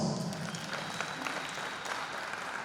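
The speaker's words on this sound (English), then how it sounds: "Let's give him another round of applause." Audience applause at the official opening ceremony of the Zone VI Volleyball Championships in Limpopo, a steady wash of clapping from a fairly distant crowd, moderately quiet and continuous with no talk over it.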